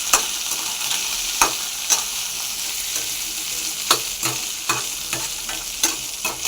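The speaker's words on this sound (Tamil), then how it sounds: "பெரிய வெங்காயம் போட்டுக்கிட்டு நல்லா வதக்கிட்டுக்கலாங்க." Large onions and fennel seeds sauté in a pan, a steady close sizzle punctuated by repeated sharp scrapes and clicks of a spoon stirring at irregular intervals, with no speech.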